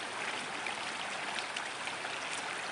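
River water flows in a continuous, even rushing hiss, close and steady throughout with no voices.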